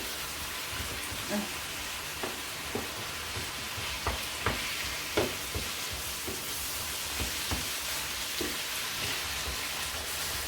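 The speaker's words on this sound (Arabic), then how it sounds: "هقلب كل الخليط ده بقى مع التوابل مع كل حاجه مع بعضيها بالشكل ده" An eggplant mixture with spices is stirred in a hot pan, with a steady sizzle under a string of sharp spoon scrapes and taps against the pan.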